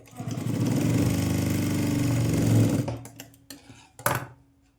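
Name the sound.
sewing machine stitching a blouse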